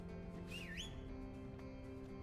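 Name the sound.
whistle emote sound in video game The First Descendant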